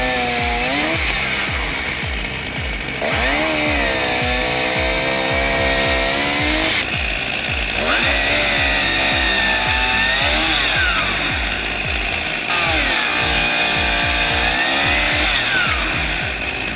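A chainsaw-mounted firewood cutter gliding along a rail slices through logs, the engine droning loudly and rising in pitch with each cut, several passes in a row, close and continuous.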